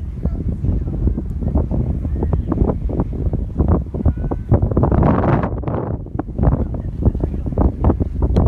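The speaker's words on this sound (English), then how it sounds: "It is very windy, but stick with us." Strong gusty wind at Scusset Beach buffets the microphone in heavy, rumbling bursts, loud and continuous throughout, with a brief rushing swell in the middle.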